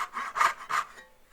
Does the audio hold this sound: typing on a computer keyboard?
no